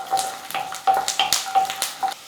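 A handful of garlic frying in sesame oil in a pan for chutney, giving a close, steady crackle and sizzle with small popping bursts, without speech.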